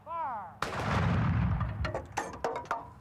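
A 1920s ceremonial artillery cannon at the US Army artillery school, Fort Sill, Oklahoma, fires one loud, sharp blast that rolls into a long rumbling boom, followed by several quieter cracks and echoes.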